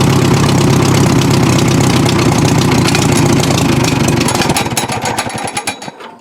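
An old, overgrown Farmall tractor engine runs loud and close with a rough, knocking chug. Near the end it slows into uneven, sputtering beats and dies away.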